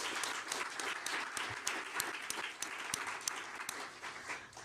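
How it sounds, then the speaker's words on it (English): An audience at a NASA science and discovery event gives a sustained round of applause, many hands clapping in a dense, lively patter that continues throughout. "please join me in yet another round of applause to celebrate them"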